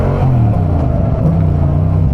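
A motorcycle engine rumbles and revs close by on a ride, a loud, steady low throb with slight rises in pitch and no talking.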